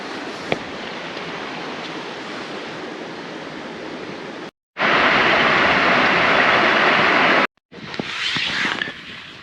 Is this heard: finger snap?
no